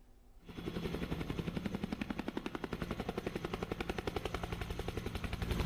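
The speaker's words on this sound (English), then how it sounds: "This roaring light utility helicopter prototype" A prototype light utility helicopter starts up abruptly and roars close by, its rotor thumping in a fast, steady beat over a heavy engine whine.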